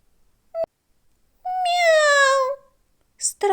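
A voice imitates a kitten, giving a short mew followed by a longer, drawn-out falling meow, close and clear.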